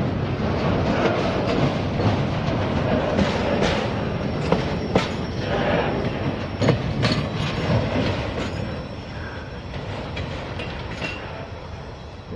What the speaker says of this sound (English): I think the train's coming.